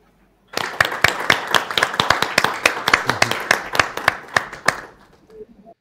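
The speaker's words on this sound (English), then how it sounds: "I hope you can hear the appreciative clapping from this end" Appreciative clapping from an audience at a COP26 side event session, a burst of roughly two dozen sharp, fairly close claps in a quick, uneven rhythm lasting about four seconds before fading.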